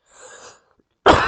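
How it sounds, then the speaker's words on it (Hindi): A single sharp cough, close and abrupt, after a brief moment of quieter voice. "सॉरी, मुझे थोड़ा खांसी है,"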